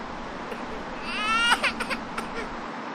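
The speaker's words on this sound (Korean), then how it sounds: "집에서 새어나오는 아기 울음소리 때문입니다." A baby cries from inside a house, heard from outdoors: a rising wail followed by a few shorter sobbing bursts over quiet background noise.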